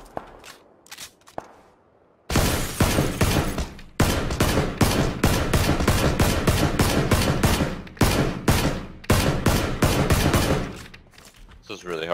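A Tommy gun fires in PlayerUnknown's Battlegrounds, with loud, sustained bursts of automatic fire broken by brief gaps and a quieter stretch at the start.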